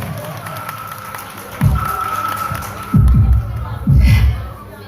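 Audience at a talent festival competition applauds and cheers in loud bursts, with a steady crowd murmur and a presenter's voice in between, the clapping swelling sharply three times.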